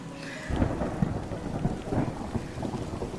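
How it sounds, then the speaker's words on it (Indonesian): Rain pours steadily at night while low rumbles of thunder roll beneath it, a continuous storm with no voices. "masuk yuk, hujan."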